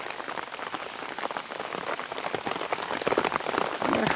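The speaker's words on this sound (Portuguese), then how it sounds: "A chuva tá intensa," Heavy, out-of-season rain beats down in a thick, crackling wash of drops on surfaces, growing louder toward the end, with no voices.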